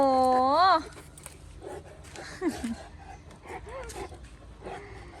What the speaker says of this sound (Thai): ไม่ต้องเห่าแล้ว